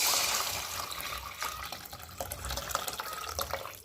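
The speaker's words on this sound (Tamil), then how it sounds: "இப்போ இதில் நம்ம புளி தண்ணி சேர்த்துக்க போகிறோம்" Tamarind water is poured into an anchovy fish curry, giving a soft, continuous liquid splash and trickle with faint drips, fairly quiet and heard alone.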